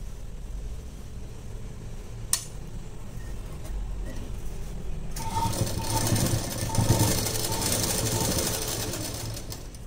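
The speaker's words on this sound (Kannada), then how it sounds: "ಇಲ್ಲಿಗೆ ಸ್ಟಿಚ್ ಮಾಡಬೇಕಾಗಿತ್ತು, ಇಲ್ಲಿಗೆ ಮಾಡ್ತೀನಿ." A sewing machine stitches a blouse, starting after a quiet stretch with a single tap, then running as a steady, close mechanical whir and rapid chatter that continues to the end.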